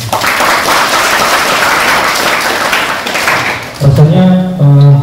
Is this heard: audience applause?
yes